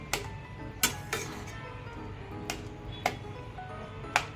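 A lid set on a cooking pot in a home kitchen, giving several separate metallic clinks and taps, spaced apart over a low background rumble.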